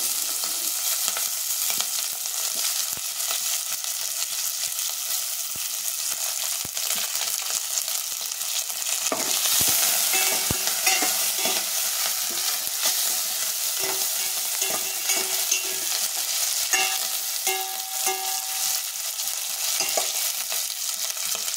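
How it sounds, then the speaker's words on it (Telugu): Curry leaves, green chillies, garlic and onions frying in hot oil, a continuous dense sizzle with intermittent spoon scrapes and crackles as they are stirred, close and fairly loud with no talking. "కరివేపాకు, పచ్చిమిర్చి, వెల్లుల్లి, ఆనియన్స్ వేసి ఫ్రై చేసుకుంటున్నాము."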